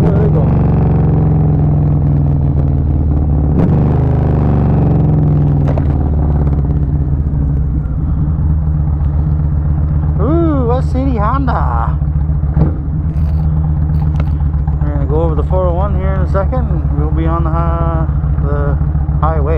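A Kawasaki Vulcan 1500 Nomad motorcycle cruises on a highway with a steady, loud low engine rumble and heavy wind buffeting throughout, and someone talks over it near the end.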